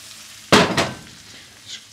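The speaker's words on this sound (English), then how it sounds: "Good sizzle to that." A sharp burst of sizzling as toast hits butter in a hot pan, followed by a second hiss that fades into a soft crackle.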